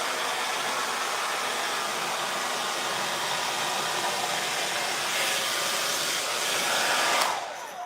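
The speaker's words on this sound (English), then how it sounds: "Old hairdryer." An old hair dryer blows steadily on a fresh coat of varnish on wood, a loud continuous whooshing hiss that stays even before cutting off at the end.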